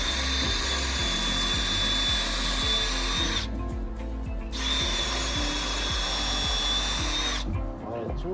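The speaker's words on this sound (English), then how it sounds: "Now we're gonna drill it," A power drill runs steadily through wood for a DIY sauna build, a continuous close whine with two short pauses, while low knocks and movement sound underneath.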